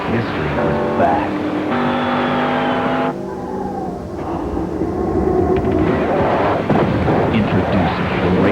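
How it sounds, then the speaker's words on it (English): A race-modified Chevrolet Monte Carlo NASCAR Winston Cup race car engine roars loud and close, its pitch climbing and dropping as it revs, while a voice talks over it. "Introducing the race-modified Chevrolet Monte Carlo."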